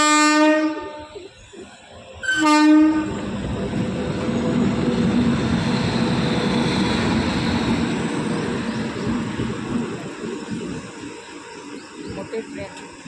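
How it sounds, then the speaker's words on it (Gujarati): A big train passes a village level crossing, opening with two short horn blasts before a loud, sustained rolling roar of wagons that slowly eases off as it goes by. "મોટી ટ્રેન"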